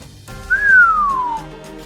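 A single whistle close and clear, rising briefly and then gliding slowly downward for about a second over a faint background hum.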